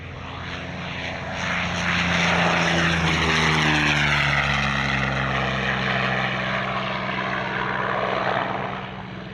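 P-40 Kittyhawk warbirds roar past at an Australian airshow, their piston engines swelling from a distant drone to a loud, close pass with a falling pitch, then fading.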